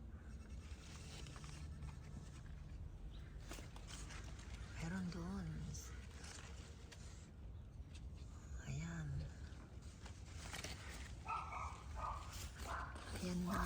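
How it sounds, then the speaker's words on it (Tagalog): A neighbouring house's dog barks faintly in the distance, a few short yips heard under nearby talk in a backyard garden. "aso sa kabilang bahay."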